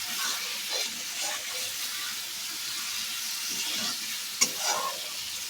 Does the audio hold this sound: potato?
yes